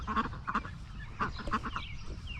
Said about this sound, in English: What'd you think of them geese?